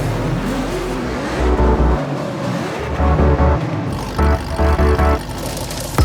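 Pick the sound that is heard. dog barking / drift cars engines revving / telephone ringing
drift cars engines revving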